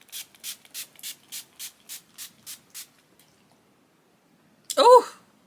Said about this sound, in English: Let me spray and see if this will set a little bit